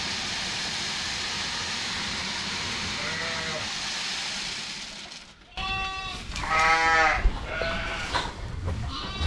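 Lambs and sheep bleat inside a barn, a few faint calls at first, then a louder chorus of overlapping bleats in the second half against steady background noise.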